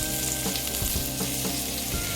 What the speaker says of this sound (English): I usually cook my salmon in a cast iron pan or a non-stick pan